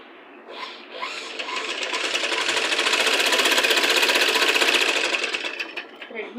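A sewing machine stitches invisible piping along a fabric edge in one continuous run, its rapid needle chatter rising to a steady, close drone and then slowing to a stop, with no talking.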